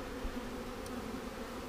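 Honey bees from a freshly installed package hive buzz in a steady, close, continuous drone with no voices.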